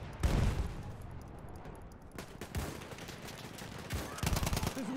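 In the World War I shooter Battlefield 1, rapid bursts of machine gun fire and scattered gunshots crackle loudly over a noisy battlefield backdrop, with heavy volleys at the start and again near the end.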